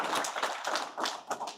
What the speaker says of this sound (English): please give yourself once again a round of applause.